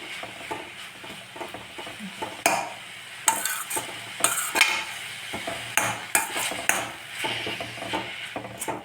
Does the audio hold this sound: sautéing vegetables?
yes